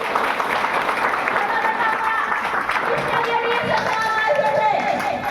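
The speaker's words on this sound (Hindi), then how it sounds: "एक बार जबरदस्त ताली होनी चाहिए।" Steady, dense audience applause fills a hotel meeting room, loud and continuous throughout with a few voices faintly underneath.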